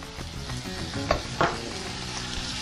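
Ingredients frying in a pan for a chicken dish, a soft, continuous sizzle with a few sharper stirring knocks and scrapes near the middle, close and moderately loud.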